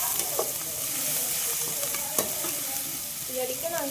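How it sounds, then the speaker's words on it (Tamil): Onions sauté in a pan for chicken gravy, sizzling steadily under a spoon that stirs and scrapes now and then with small clinks, close and alone. "இதை நல்லா வதக்கிக்கலாம்"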